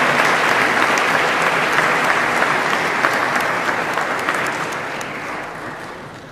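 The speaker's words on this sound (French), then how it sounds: "applaudissons encore une fois nos finissantes et nos finissants du programme Aide en soins de santé" A graduation ceremony audience applauds the graduates of a health care aide program at a technical and vocational school, with dense, sustained clapping from a large crowd that slowly fades toward the end.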